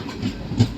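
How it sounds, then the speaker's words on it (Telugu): A train pulls into Palakollu railway station, a brief low rumble with two soft clanking thuds from the carriages, heard at moderate distance without speech. "ఫైనల్ అయితే మన ట్రైన్ అయితే పాలకొల్లు వచ్చేసిందండి"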